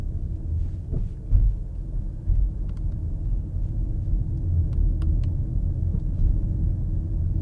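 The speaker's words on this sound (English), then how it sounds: "And propulsion sound, that's what I'm hearing." Ford Mustang Mach-E electric SUV playing its artificial propulsion sound in Unbridled drive mode: a steady, low synthetic rumble fills the cabin throughout, swelling slightly at moments, with no talking.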